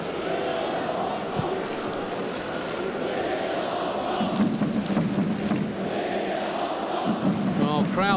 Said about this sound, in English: Crowd trying to get behind Hong Kong here